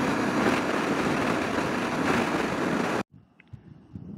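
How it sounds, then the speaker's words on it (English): A strong wind gust roars into the microphone on an open outback highway, a loud broadband rush lasting about three seconds before cutting off to quieter background noise. "Wind gust."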